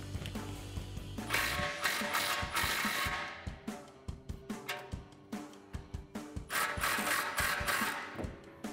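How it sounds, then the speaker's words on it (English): A ratchet with a 15 mm socket loosens the tailpipe clamps on a RAM 1500 exhaust, sounding as a long run of quick, close clicking strokes with metallic rattles, bursts coming in uneven waves. "We're gonna unbolt the tailpipes from the muffler first using a 15 millimeter socket."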